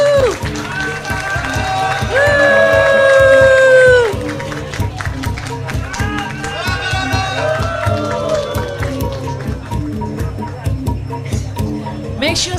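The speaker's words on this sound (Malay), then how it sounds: "Tepukan semua." Crowd applause and cheering at the Bung Bratak Day 2023 cultural event in Sarawak, with loud clapping under music and voices, swelling early and then continuing at a steady level.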